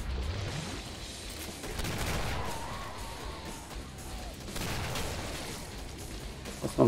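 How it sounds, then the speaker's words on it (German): Dense gunfire and explosive crashes from Killing Floor rattle through a noisy battle mix, with a sharp loud burst right at the end. "Das war ein Panisch-Schuss."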